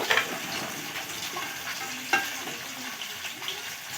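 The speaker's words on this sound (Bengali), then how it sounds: "আলু, ফুলকপি, বেগুন একসঙ্গে সব দিয়ে দেব।" Potato, cauliflower and eggplant pieces tumble into a hot frying pan, setting off a steady sizzle with a few sharp clatters as they land and are stirred, close by and with no talking.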